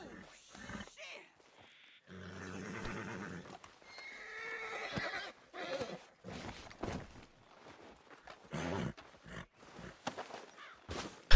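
Horse neighing and whinnying with clip-clopping hooves in Red Dead Redemption 2, several loud whinnies and snorts broken by short gaps, with scattered hoof steps and a brief voice.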